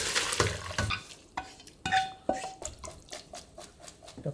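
Blanched burdock root is lifted from a pot of hot water, with scattered clinks and scrapes of a utensil against the pot and soft watery splashes, fairly quiet and with no talking.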